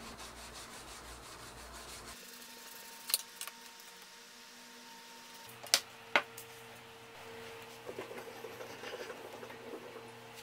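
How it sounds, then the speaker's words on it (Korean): Steady, soft rubbing of 400-grit sandpaper on a surface, with a low hum underneath and a few sharp clicks and taps scattered through. "400번 사포를 사용해서 면을 곱게 다듬어 줍니다."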